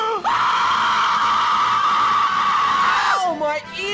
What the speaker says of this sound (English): With my Vester&Friends exclusive move, the Scream of Death!